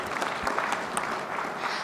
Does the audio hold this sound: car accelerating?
no